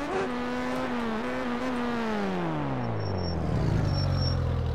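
A Suzuki GSX1000 motorcycle engine in the MX Bikes video game holds a steady high rev that wavers slightly, then drops in pitch as the bike slows, loud and alone throughout.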